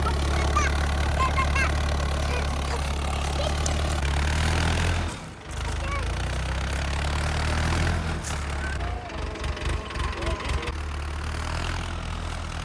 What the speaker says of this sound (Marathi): आता मी ना हे ट्रॅक्टर चालून बघणार आहे